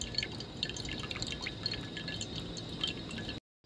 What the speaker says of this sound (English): Drain that fat.